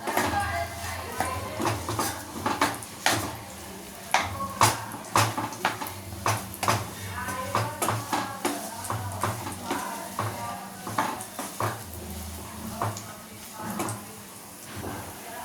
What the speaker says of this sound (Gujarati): મિક્સ કરતા રહીશું, હલાવતા રહીશું, એટલે એનો સરસ એવો માવો બની જશે